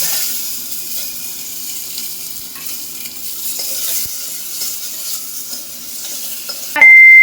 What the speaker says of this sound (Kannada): ಮೆಣಸಿನ್ಕಾಯಿ ಕೂಡ ಹುರಿದಿದ್ದು ಆಗಿದೆ. ಇದಕ್ಕೇನೆ ನಾವು ಟೊಮೊಟೊ ಹಾಕೋಣ.